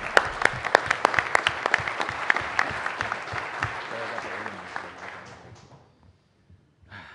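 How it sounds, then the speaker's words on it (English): An audience applauds after a presentation at a talk event: dense, rapid clapping at close to moderate distance that thins out and fades to near silence by the end. "Let's give a round of applause."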